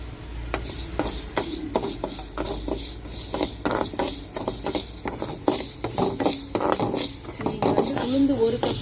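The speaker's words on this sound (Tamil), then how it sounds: "கருக விட்டுறக்கூடாது, நம்ம கை விடாமல் நல்லா பொன்னிறமாக இந்த அளவுக்கு வறுத்தணும்" Lentils and dried chillies dry-roasting in a pan for idli powder, with a spoon repeatedly scraping and stirring against the metal in steady, close clatters and soft rasps, no talk over it.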